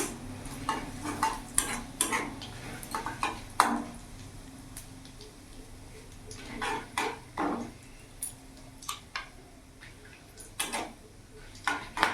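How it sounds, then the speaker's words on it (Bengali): Bay leaf, dried chilli, whole cumin and whole garam masala tempering in hot oil on a raised gas flame, a faint sizzle under repeated close clinks and scrapes of a spatula against the pan. "ওই তেলের মধ্যে ফোড়নে দিয়ে দেবো একটা তেজপাতা, শুকনো লঙ্কা, গোটা জিরে, গোটা গরম মশলা।"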